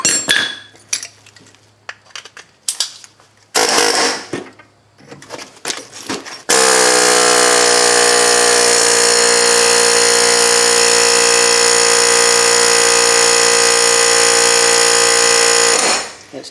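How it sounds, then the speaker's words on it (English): On a 1998 Subaru Outback axle, a few scattered metallic clanks and taps give way to a pneumatic air hammer that rattles continuously and very loudly for about ten seconds, then stops. "I'm going to put an air hammer in there and see if I can get that."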